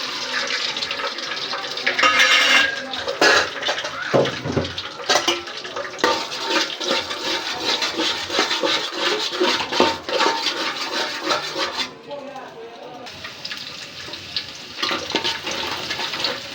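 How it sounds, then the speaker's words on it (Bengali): Beaten eggs frying in a pan, a steady watery hiss and sizzle with scattered crackles running throughout, dipping briefly partway through before resuming at a similar level. "এখন হচ্ছে ডিমগুলো আমি একটু ভেজে নেই।"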